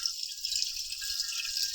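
Water runs into a pot to boil eggs, with baking soda to follow, making a steady hissing rush for a couple of seconds.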